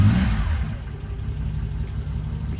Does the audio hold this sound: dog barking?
no